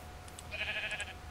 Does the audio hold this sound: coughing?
no